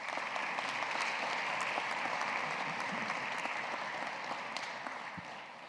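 Audience applause fills a university awards ceremony honoring essay contest students, a dense, steady clatter of many hands held at even loudness throughout and easing off slightly at the end, with no voices over it.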